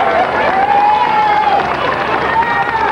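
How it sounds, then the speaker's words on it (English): Crowd cheering outside a courthouse after a murder verdict, loud sustained whooping and mixed voices with a rising shout running through, close and continuous. "Gloria Allred, who represented star witness Amber Fry, was cheered by the crowd outside the courthouse."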